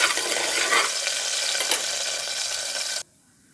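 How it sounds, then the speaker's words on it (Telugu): Coconut pieces dropped into hot oil for Kerala-style kalathappam fry with a loud, dense, close-up sizzle that holds steady for about three seconds and then cuts off abruptly to near silence. "ఇప్పుడు మనం ఆయిల్ కాగింది కదా, ఈ కొబ్బరి ముక్కల్ని ఇందులో వేసేసుకుందాం"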